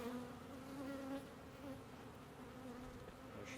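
Honeybees buzzing inside an opened hive caught in a swarm trap, a steady, dense drone of many wings close by, with no voices.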